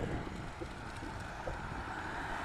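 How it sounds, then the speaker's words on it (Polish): Steady wind rushes and buffets the microphone in a continuous low roar, with no voices. "wiatr"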